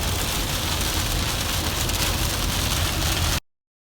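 Steady rain pours down at a motocross race day, a dense, loud, even hiss of drops on surfaces that continues without pause, then cuts off abruptly.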